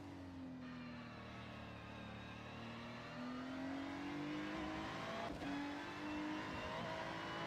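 A GT3 race car engine at Hockenheim drones with a rising and falling pitch as the driver works the throttle, steady and fairly loud throughout.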